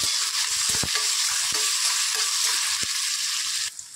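Onion and crushed garlic fry in oil in a pan with a loud, bright, continuous sizzle, scattered stirring knocks underneath, the hiss easing slightly in the final moments.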